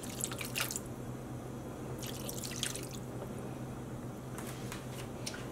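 Two cups of water mixed with a tablespoon of vinegar is poured into a dye pot of yarn and jelly beans, making a steady splashing trickle in bursts over a constant background hum, close and moderately loud.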